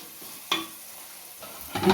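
Vinegar splashes into chili powder frying in oil in a pan for vegetarian cauliflower pickle, giving a sudden sizzling hiss, a quiet stretch, then another rising burst of sizzle at the end.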